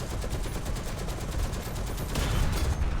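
A .50 cal machine gun in War Thunder fires a steady, rapid stream of heavy rounds, loud and close throughout, with no pauses.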